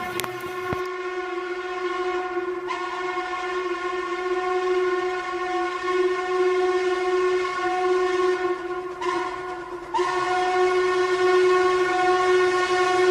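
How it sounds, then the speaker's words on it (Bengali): An old train whistle sounds as one long, loud, sustained tonal blast over the steady rumble of a running train, swelling slightly toward the end. "যেন আমাদের কানে ভেসে আসছে ট্রেনে সেই পুরানো হুইসেল।"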